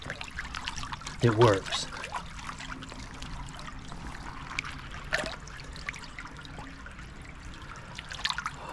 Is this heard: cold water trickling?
yes